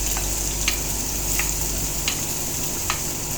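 Onion and garlic sautéing in olive oil in a stainless steel pan, a constant close sizzle with a few light stirring clicks spaced through it, no voices.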